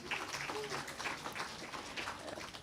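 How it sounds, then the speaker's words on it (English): Faint round of applause from an audience for the winners at the close of a university Three Minute Thesis competition, a steady patter of many hands lasting a few seconds. "Give a big round of applause for them."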